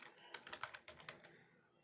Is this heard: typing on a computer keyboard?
yes